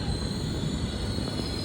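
Netravati Express train pulling into Kasaragod station, a loud continuous rumble of wheels on rails with a steady high whine, heard from on board with no talking.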